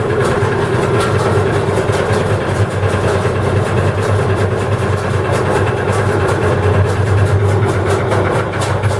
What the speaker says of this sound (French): on entend mieux le moteur